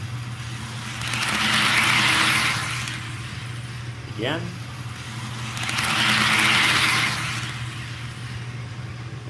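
Rapido SD10 model train locomotives running on track at speed step 28, heard close up as a steady rumbling hum that swells twice as they pass near, with a brief voice in between.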